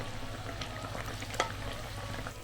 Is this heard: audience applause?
no